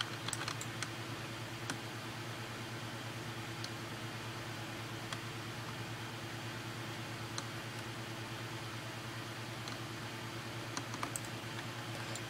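Typing commands on a computer keyboard, with scattered light key clicks, some in quick runs and others isolated, over a steady hum of background noise, fairly faint and with no talking.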